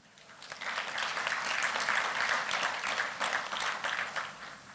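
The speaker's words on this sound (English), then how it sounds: "we must give the NFP a round of applause" Audience at a gala dinner and banquet applauding steadily for several seconds, a dense wash of many hands clapping at moderate loudness, with no talk over it.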